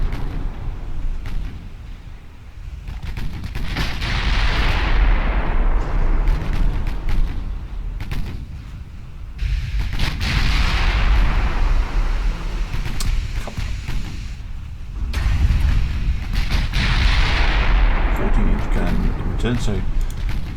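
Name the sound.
14-inch naval guns firing, Ultimate Admiral Dreadnoughts video game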